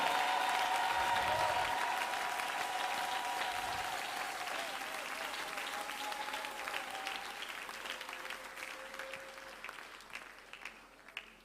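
A church congregation applauds at an Easter service, a long wash of clapping from a crowd that swells and then slowly tapers, with faint voices and a sustained tone beneath.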